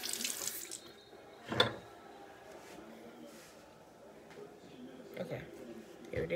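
Tap water running into a sink to wet the face during a night skincare routine, a soft steady stream with a brief splash and faint handling sounds, quiet and close.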